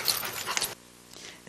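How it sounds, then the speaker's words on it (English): An unhappy dog at a park pants and whimpers briefly and close by, a short burst of breathy noise that drops off into quiet after a moment. "this dog, not happy about it."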